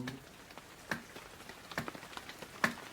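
Fingertips tapping to imitate rain during a children's storytime: soft, sparse, irregular taps with a few sharper clicks, quiet and close, no talking over them.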